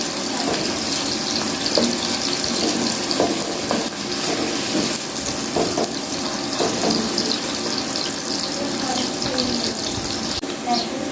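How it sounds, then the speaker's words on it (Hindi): Sliced onions fry toward golden in hot oil for chicken biryani, a dense, even sizzle that carries on without a break. "प्याज को गोल्डन फ्राई करेंगे।"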